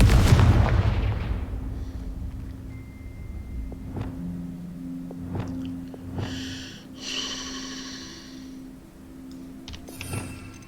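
In the Hogwarts Legacy video game, a Confringo fire spell goes off with a heavy, booming blast that fades slowly. Lighter magical whooshes, tonal hums and scattered crackles come after it, with no one talking.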